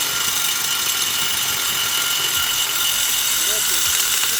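Fischer C1600N dry core drill running at full speed, a steady loud broadband whine and grinding held throughout with no breaks, close by.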